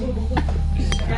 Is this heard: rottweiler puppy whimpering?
no